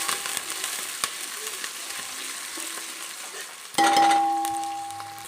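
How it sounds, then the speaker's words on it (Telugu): Curry leaves stirred into a hot pan of oil while making Telangana sambar (pappu pulusu): a steady close sizzle with scraping stirs, then a sharper burst of crackling and a clink of the utensil toward the end. "ఇప్పుడు కొద్దిగా అయితే కరివేపాకు వేసుకున్నాం. ఒకసారి కలిపేసుకున్నాం."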